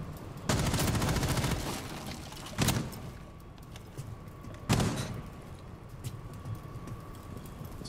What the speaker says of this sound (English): He just shot through the wall and got a little lucky